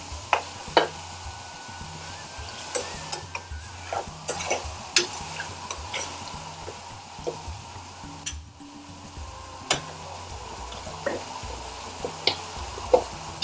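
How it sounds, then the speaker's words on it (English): Mango flesh is stirred into a pan of chicken tikka masala, restaurant style, with a low bubbling simmer and repeated light clinks and scrapes of a spoon against the pan, close up and steady throughout. "Now we're going to put in the mango flesh. Give that a stir through."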